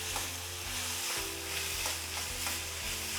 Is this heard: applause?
no